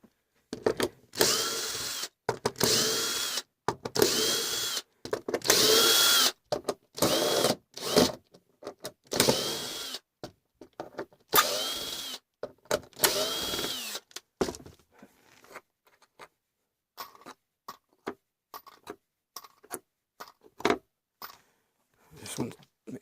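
Cordless power drill driving screws into a wooden jig for a PS5 console side panel: repeated loud whirring bursts of a second or two with short gaps, then quieter scattered handling clicks and taps.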